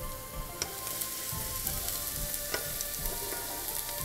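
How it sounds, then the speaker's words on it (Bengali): An egg is scrambled and fried in a hot pan, giving a continuous close sizzle with occasional sharp clicks and scrapes of stirring. "দিয়ে দিচ্ছি ডিম, ডিমটাকে আমি স্ক্র্যাম্বল করে ফেলছি।"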